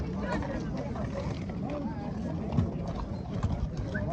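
Horse hooves clip-clop faintly at a busy outdoor horse market, mixed into crowd murmur and people talking nearby.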